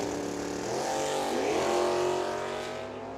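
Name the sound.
drag racing launch at Firebird Motorsports Park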